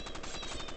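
Rapid automatic gunfire in a shooter video game, a dense unbroken burst of loud, evenly spaced shots filling the whole short moment.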